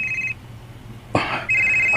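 A cellphone rings with a bright, repeating electronic tone that cuts off, leaves a short gap with a rustle or bump, then resumes loud and close.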